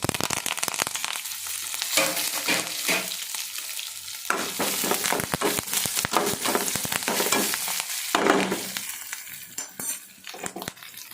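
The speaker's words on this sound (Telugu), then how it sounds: "పప్పులు కూడా కొంచెం కలర్ వచ్చి వరకు వేస్తే బాగుంటుంది" Lentils sizzle loudly in hot oil for a brinjal curd chutney, a dense crackling fry with the clatter and scrape of a spoon stirring in the pan throughout.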